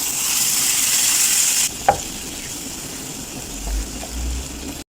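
Chicken wings cooking in a pan with oyster sauce, soy sauce and a little broth, a loud steady sizzle that cuts out, then a clink and soft stirring and bubbling sounds close by.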